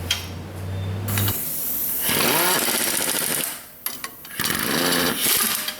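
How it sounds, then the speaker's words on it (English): Impact wrench on leaf spring bolts during a broken rear leaf spring replacement on a Toyota Tacoma, giving loud, sustained mechanical rattling bursts in two or three long runs separated by brief pauses. "I'll grab impact"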